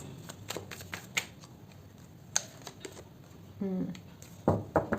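Tarot cards being shuffled in soft riffling bursts and flicks, with a quiet card slap, in an otherwise quiet room; someone speaks briefly near the end.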